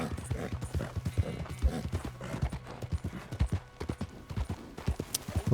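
Horse hooves clip-clop in Red Dead Redemption 2, with a steady close trot of irregular thuds and faint talk in the background.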